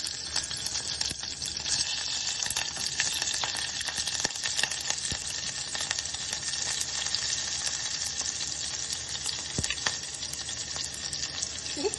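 Peanuts fry in hot oil with mustard seeds, cumin and green chillies in a pan for vegetable upma, giving a steady close sizzle with crackling pops and no talk.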